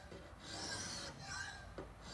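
A knife blade drawn along the flat, smooth side of an EzeSharp sharpening stone fitted with a wedge attachment, giving steady close-up rasping strokes with brief pauses between passes.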